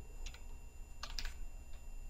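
Computer keyboard typing while entering an Excel 2013 formula, a few quick, faint, close clicks in small clusters against a quiet room background.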